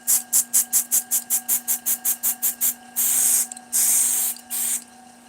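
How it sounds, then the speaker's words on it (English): A rapid series of about a dozen short hissing bursts of Satellite City CA glue accelerator spray, followed by three longer sustained sprays, close up over a steady electrical hum. "This is just accelerator spray from Satellite City, so that CA glue will cure right away."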